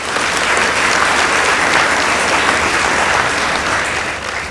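An audience at a high school debate between girls' and boys' schools applauds in a steady, loud wash of clapping that fills the room throughout.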